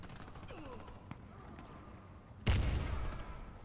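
Gunfire in the Warface shooter game on the Dock map: a sudden loud burst of shots near the end, following quieter game ambience with faint distant pops.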